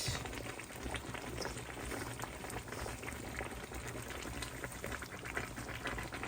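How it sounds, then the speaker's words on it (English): Stew simmers in a pot on the stove, a soft continuous bubbling and gentle popping that stays faint and even, with no voices over it. "Our stew was simmering for the last 3 minutes"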